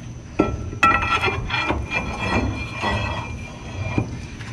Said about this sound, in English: Axle shaft going back in.